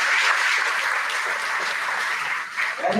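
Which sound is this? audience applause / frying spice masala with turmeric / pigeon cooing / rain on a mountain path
audience applause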